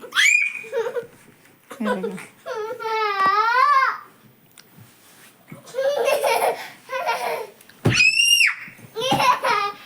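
A young girl screams in shrill, piercing bursts at a family home, alternating with laughter and children's chatter, loud and close.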